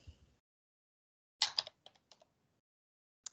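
Medication name typed on a computer keyboard: a quick cluster of key clicks after a pause, then a few scattered taps and one last click, close and quiet with no talk.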